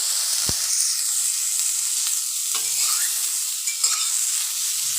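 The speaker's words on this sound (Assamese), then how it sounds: "ফুলকবিখিনি মই ভালকে ভাজি লম" Loud, continuous sizzling of cauliflower frying in a pan with salt and turmeric, with a few soft scrapes of stirring.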